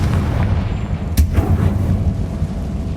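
A Confringo fire spell from the video game Hogwarts Legacy blasts with one sharp crack followed by a rumbling boom, over a dense, loud background of game noise.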